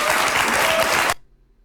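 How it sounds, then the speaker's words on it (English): An audience claps loudly and densely for about a second at a political event, then the applause cuts off abruptly into near silence. "Why are they even clapping?"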